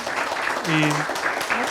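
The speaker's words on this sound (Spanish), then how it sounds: "Doy un aplauso a Viro, le agradecemos" Audience applause for a speaker at a university event, a dense steady wash of clapping throughout with a voice briefly speaking over it.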